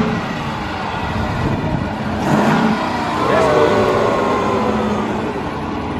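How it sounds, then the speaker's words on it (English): A Dodge Durango R/T's engine idles and then revs up twice in moderate swells, heard close by with a steady rumble underneath. "Rev it up a little bit. Let's see what it's talking about."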